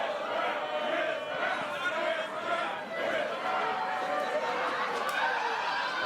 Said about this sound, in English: Crowd having a little fun here with GPA